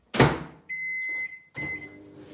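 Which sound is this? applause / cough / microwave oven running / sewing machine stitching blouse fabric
microwave oven running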